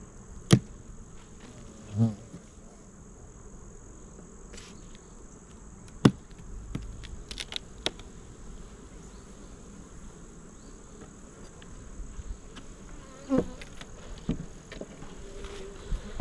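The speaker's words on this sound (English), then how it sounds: "Usually the pitch of the sound of the hive changes." Honeybees hum from inside an open hive, a faint steady drone with a few sharp clicks and knocks from handling the frames, no talking.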